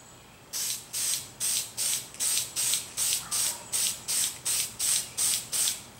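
A rapid series of short 1260 dull coat aerosol spray bursts on trucks and couplers, roughly a dozen quick hissing pulses in steady rhythm after a brief quiet start, close and clear.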